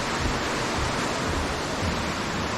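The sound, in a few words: Brandywine waterfall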